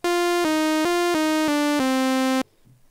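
Korg Monologue synthesizer on an init program, playing six plain buzzy notes in a steady stepping sequence, each bright and harmonically rich with no filter sweep, stopping abruptly.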